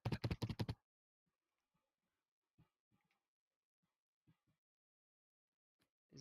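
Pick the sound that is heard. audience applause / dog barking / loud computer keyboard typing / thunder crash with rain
loud computer keyboard typing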